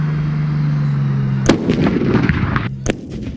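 At a military vehicle show, a tank gun fires with a sharp, loud crack, followed by a rolling blast and a second sharp bang, all over a steady engine drone with no talking.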